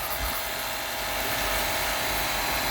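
A steady, loud hiss of high-pressure water spraying continuously from a large pressure washer lance, with a low motor rumble underneath and no talking.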